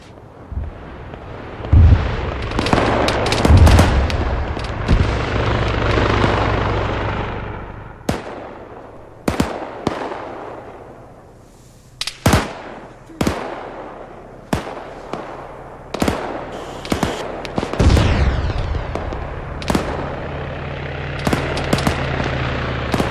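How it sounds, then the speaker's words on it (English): Loud, irregular video game gunfire cracks and booming explosions go off repeatedly, some in quick clusters, with rumbling blasts filling the gaps. "I couldn't hear you over all the gunfire."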